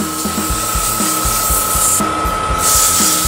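Fine 400-grit sandpaper rubbing a tiny turned wood hollow form on a spinning lathe makes a continuous close hiss over a regular low knocking pulse from the rotation, lasting throughout without voices.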